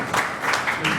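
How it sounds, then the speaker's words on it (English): Audience applause in a lecture hall, a brief burst of dense, steady clapping from a crowd, filling the whole moment without any voice over it. "thank you for the applause"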